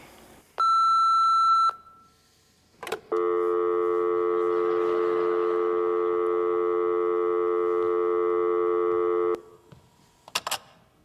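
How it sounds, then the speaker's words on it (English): An answering machine sounds a short electronic beep, then a long, steady tone that holds for several seconds before stopping with a few brief clicks. Heard during a stage musical production. "Leave a short message after the tone"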